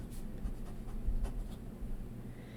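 TWSBI Eco fountain pen with a 1.1 stub nib and Document Black ink scratching across paper, faint close strokes and taps in short bursts over a quiet low hum, no talk.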